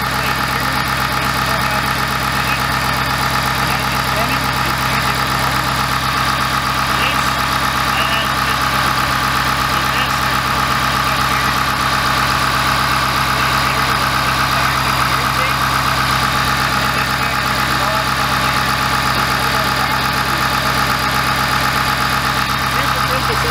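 A 2020 Ford F350 6.7 Powerstroke diesel engine idles steadily with a dense, unchanging drone and clatter, heard up close for the whole stretch while someone talks over it.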